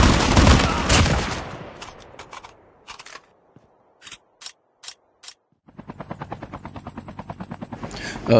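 A helicopter in Call of Duty Mobile battle royale, with a loud, rapid rotor chop at the start that fades, a gap broken by short bursts, then the rhythmic thudding of blades returning nearby.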